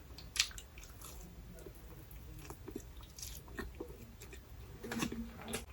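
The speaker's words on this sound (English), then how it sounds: "I can't eat and talk at the same time" A person chewing and eating food during a mukbang, with faint, close crunches and wet mouth sounds scattered over a quiet background, and no talking.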